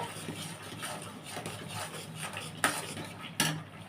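Corn korma is stirred in a pan after ketchup and chili flakes go in, a quiet scraping and soft clatter of a spoon against the pan with two sharp metallic knocks toward the end.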